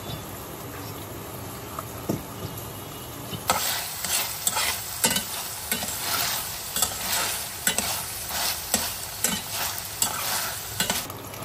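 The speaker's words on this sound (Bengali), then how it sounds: "তার মধ্যে একটু সাদা গোলমরিচ গুঁড়া আর বারবিকিউ সস দিয়ে ভালো মতো ভেজে নিব।" Small chicken pieces fry in a pan with white pepper and barbecue sauce, sizzling steadily while being stirred in repeated scraping strokes that grow louder and brisker after a few seconds.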